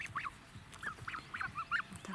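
Linda-breed geese with white feathers, young birds raised since goslings in a village yard, give repeated short honking calls in an irregular rhythm, fairly faint and near, with no voices.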